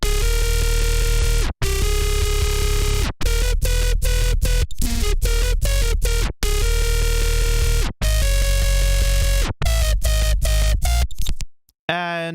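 Synthesized bass processed through pedal, erosion and amp effects, playing a dense, heavily distorted rhythmic pattern with short stops between phrases, loud and upfront with no talk.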